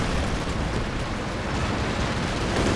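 Aircraft strafing run in Company of Heroes 2 on the Essen Steelworks map: a dense, steady roar of rumbling gunfire and explosions that holds at a constant loud level throughout, with no talk over it.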